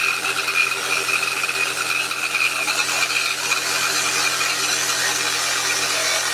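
Jigsaw-style power saw blade cutting along a marked line in wood for a pet feeding station, a steady buzzing, rasping whine held close and continuous with no talk.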